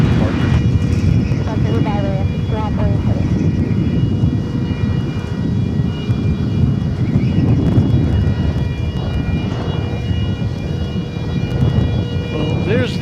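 Airliner engines roar loudly and continuously at DFW Airport, a broad steady rumble with a droning, whining tone held throughout, with voices faintly audible in the background.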